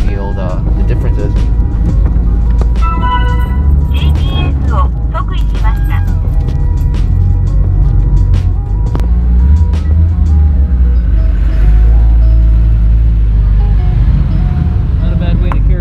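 A caravan of Nissan Skyline R34 and R32 GT-R cars drives along with a loud, close, continuous engine and road rumble, shifting slightly in pitch, while people talk over it.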